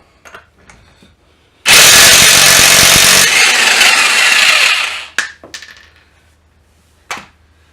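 Chicago Electric impact wrench removing lug nuts: one loud sustained burst of hammering whir lasting several seconds, followed by a few short clicks and a brief final rattle.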